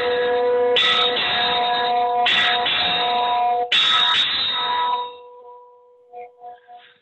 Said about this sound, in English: They do it in twos like this.